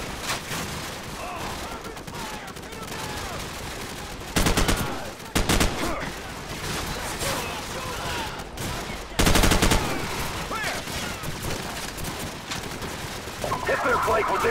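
Call of Duty 4: Modern Warfare battle with machine gun fire, loud rapid bursts and sharper blasts over constant combat noise, with voices calling out in between.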